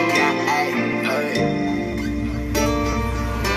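A full music track with a sung vocal line over steady bass and dense accompaniment, the voice sounding polished and effected, loud throughout.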